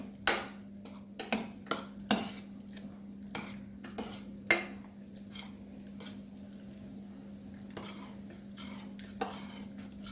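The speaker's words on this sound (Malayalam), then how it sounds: "ഇപ്പൊ വെന്തിട്ടുണ്ട് നമുക്കൊന്ന് ഉടച്ചെടുക്കണം" Cooked lentils and cabbage for sambar get mashed in a metal pot, with a scattered series of sharp utensil clacks and scrapes against the pot over a soft squelching, fairly close and quiet with a faint steady hum behind.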